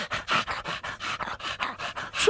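Cartoon dogs pant in a quick, steady rhythm of breathy huffs, close and fairly loud, with no talk over them.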